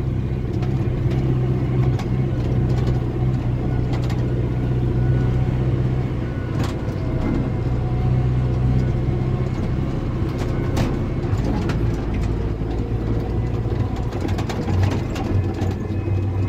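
A Massey Ferguson 5460 tractor engine runs steadily while being driven on a road, hauling sheep, with a continuous low rumble throughout and no clear speech.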